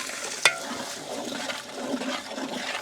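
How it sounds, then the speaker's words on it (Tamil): Water pours into a pot of village-style beef nalli gravy after spices and masala go in, a sharp splash at the start followed by a steady rushing and sizzling wash that carries on to the end, with no voices. "தண்ணி சேர்த்துக்கலாம்"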